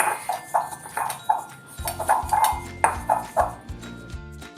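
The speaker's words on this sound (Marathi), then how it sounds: "मी लोखंडी कढईमध्येच ही पावडर आहे ही अशी प्रेस करून घेते" Powder is pressed and ground in an iron wok for a homemade hair dye, giving soft rhythmic scraping and light metallic clinks and taps, close and fairly quiet, with no talking.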